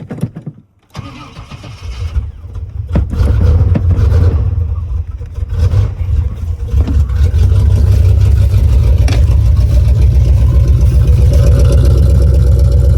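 A 2014 Chevrolet Silverado pickup with 251,000 miles, left abandoned, cranks briefly, catches and starts, then runs with a loud, rough engine note that builds and holds at a steady high level.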